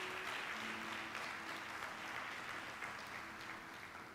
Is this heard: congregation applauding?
yes